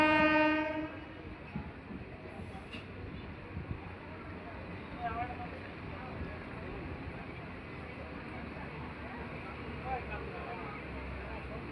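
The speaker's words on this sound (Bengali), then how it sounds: "আমাদের ট্রেন এসে পৌঁছালো কাকিনাড়া স্টেশন" A local train pulls into Kakinara station on the Budge Budge to Naihati line, its steady rumble and rattle continuous and close throughout, with a horn blast at the very start.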